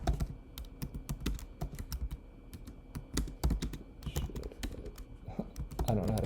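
Brisk typing on a computer keyboard while a Google Jamboard is being set up, with many close, crisp key clicks in irregular bursts and little else.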